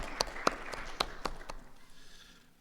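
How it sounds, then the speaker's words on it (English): Sparse applause at a scientific conference session, a few distinct, evenly spaced claps at moderate level that stop after about a second and a half, leaving quiet room tone. "Another round of applause for her."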